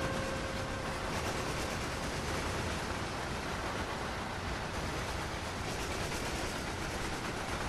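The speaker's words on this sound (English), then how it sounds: "Oh, there's the Amtrak train." An Amtrak train rolling past in Train Sim World, a steady, loud, unbroken roar of wheels and rushing air that holds level throughout with no pauses.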